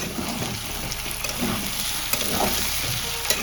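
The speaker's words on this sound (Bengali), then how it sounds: "খুলে একটু নেড়ে দেবো" Aloo posto, potato with poppy seed paste, fries in a pan and is stirred once the lid comes off: a steady close sizzle with soft scraping and a few sharper clicks, with no voices.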